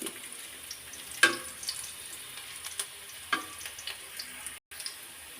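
Garlic frying in a pan for a water lily stem stir-fry, a soft continuous sizzle broken by a few sharp utensil scrapes and taps, with one brief dropout of sound.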